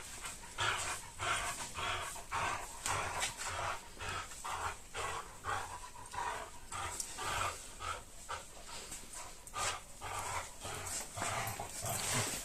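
A dog pants rhythmically and close by in a workshop where an old BMW is being painted, giving quick, even, breathy huffs that continue steadily throughout with no other sounds.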